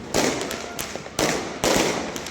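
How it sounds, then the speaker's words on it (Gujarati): Loud firecrackers burst in quick succession during Uttarayan festival celebrations, sharp bangs with crackling decay, close by, with no talking. "બહુ બધા અત્યારે ફટાકડા ફૂટે છે"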